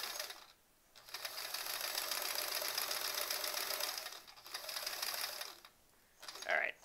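Sewing machine stitching a quilt-as-you-go sampler block, a steady fast whirring run broken by brief pauses, loud and close, with a short voice at the end.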